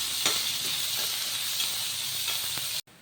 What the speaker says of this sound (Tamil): வெங்காயம் வந்து மீடியமாக வதங்கியிருக்கு